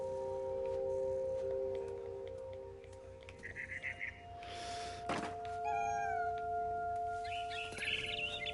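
A cat meows and caterwauls in a video game, a few drawn-out cries standing out against a low droning game soundtrack, with a brief thump partway through and no talk.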